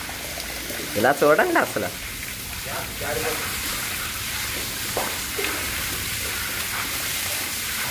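After heavy rain, water rushes through a flooded house with a steady, close, loud wash of flowing water. A voice speaks briefly near the start.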